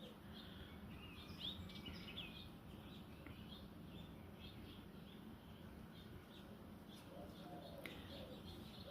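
Birds call and coo outdoors near a tree where a squirrel moves about, with scattered faint chirps and cooing spread over a steady low background hum.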